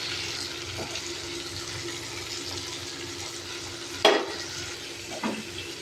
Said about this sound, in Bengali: আলুটা প্রায় সিদ্ধ হয়ে এসে ঢাকনাটা খুলে এবার আমি বেটে রাখা পোস্তটা দিয়ে দেবো